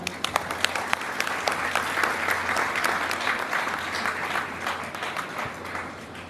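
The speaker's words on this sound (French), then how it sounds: "Je pense que cela mérite des applaudissements quand même." An audience at a student fair ceremony claps steadily, a dense wash of many hands with sharper individual claps near the front, sustained for several seconds without pause.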